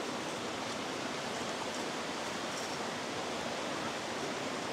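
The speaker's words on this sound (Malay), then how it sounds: "Sungai ni cetek je." A shallow river flows nearby with a steady, even burble and hiss of water over stones, constant and fairly loud, with no voices.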